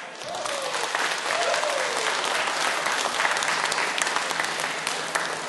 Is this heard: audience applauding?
yes